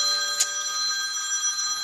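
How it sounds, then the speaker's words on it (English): A phone rings steadily with an incoming call, a continuous electronic tone close by in a quiet room. "now I'm getting a phone call"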